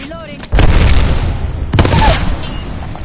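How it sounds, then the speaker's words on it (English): An arc star grenade goes off in Apex Legends amid gunfire, with two sharp, loud bursts about a second apart, each trailing into crackling noise, while a voice talks underneath. "Throwing an arc star."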